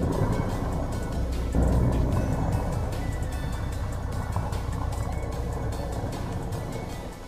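A radio-controlled model boat's motor starting in slow motion, a dense, steady low rumble and whir with a brief surge near the start, running continuously without talk.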